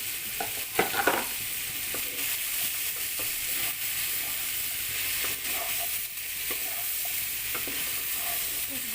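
Beef stirred in a pan for Filipino beef afritada, a steady broadband sizzle with scraping strokes and a few louder clatters near the start, continuous and close with no talking.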